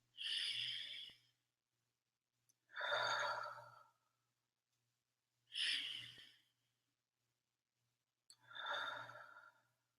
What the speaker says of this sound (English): let's just inhale and exhale